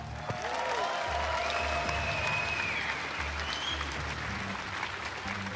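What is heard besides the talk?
audience applause for race winner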